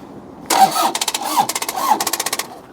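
Diesel car engine cranking on a flat battery, a rapid series of rhythmic starter pulses, close and fairly loud, with no talk.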